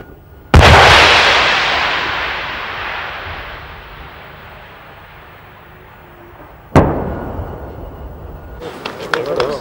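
A Bofors weapon system fires a single loud blast that rolls off into a long fading rumble, then a sharp second crack as the round strikes the target container, followed by crackling debris noise at a distance.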